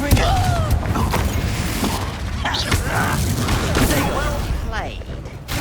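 Confringo fire spell blasts cast in the fantasy video game Hogwarts Legacy, booming impacts and crackling bursts amid dense combat effects and chatter, loud and close throughout.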